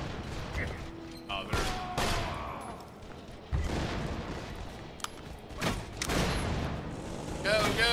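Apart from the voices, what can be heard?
gunfire at the player in Borderlands 2 video game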